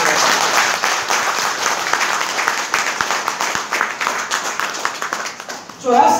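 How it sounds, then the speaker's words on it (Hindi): An audience at a motivational training program claps hard and continuously, a dense, fairly loud crowd applause that dips briefly near the end before a voice cuts in. "या तो ताली बजाएं नहीं, और बजाएं तो फिर जर्दे वाली नहीं सर आरसी वाली ताली बजाएं"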